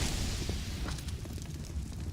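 Grenade explosion in a Counter-Strike match, a muffled, rumbling boom that decays into a faint crackling tail at a distance.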